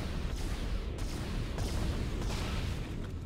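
Gunfire in the sci-fi horror video game Dead Space: heavy, booming shots land every half second or so over a thick, rumbling wall of game noise, with no voices.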